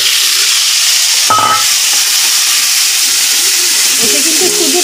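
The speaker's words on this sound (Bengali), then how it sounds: "এতে কিন্তু শুধু ডাঁড়াগুলো ভাজা হচ্ছে, বডিটা কিন্তু এখন ভাজা হচ্ছে না" Crab claws frying in oil over high heat for crab curry, a loud, dense, unbroken hiss of sizzling oil, very close, with a brief clink partway through and no voices.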